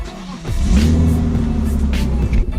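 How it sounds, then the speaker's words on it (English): Turbocharged BMW M3 with a boost leak revving up under acceleration, its engine note climbing, dipping and climbing again with a wavering, inconsistent pull; loud and close, with no voices. "Like the boost kind of hits, then drops off, hits again, drops off."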